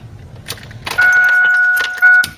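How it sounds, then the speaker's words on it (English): Warning chime in a Ford Cortina Mk3, a bright two-tone bing bong heard up close inside the car, one sustained tone followed by a short second chime, with faint clicks and handling noise around it. "that bing bong noise would annoy the hell out of me"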